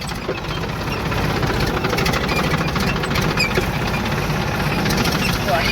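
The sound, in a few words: tractor engine running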